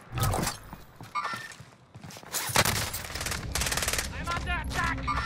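Video game gunfire in a multiplayer shooter: rapid automatic bursts and single shots crackle near and far, overlapping with footsteps and mechanical clatter, with voices calling out in the background.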